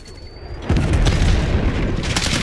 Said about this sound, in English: Net call, napalm strike inbound.